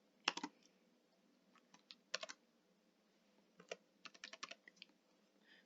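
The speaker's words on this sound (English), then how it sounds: "and then you will type in your password" Short bursts of typing on a computer keyboard while a password is entered, soft clustered key clicks separated by pauses, close and quiet with no talking.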